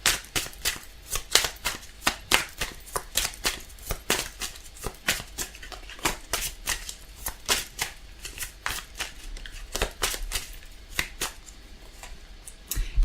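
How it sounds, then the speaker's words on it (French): Tarot cards are shuffled by hand in a quick, uneven run of crisp riffling flicks and slaps, close up and alone, with short pauses between bursts. "Allez, je mélange."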